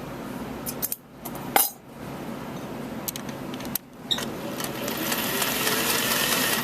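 A sewing machine stitches a patch pocket in bursts of rapid mechanical whirring, broken by a couple of sharp clicks and pauses before a steadier run of stitching at the end.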